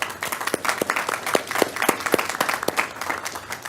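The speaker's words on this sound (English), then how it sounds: "give her a round of applause" An audience at a school board of education meeting breaks into applause for a teacher, a mix of sharp individual claps over a broad crowd wash, lively and fairly close throughout.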